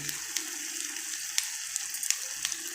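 Stuffed eggs coated in masala fry in a pan on the stove, a steady close sizzle with faint crackles and small pops scattered through, no voices.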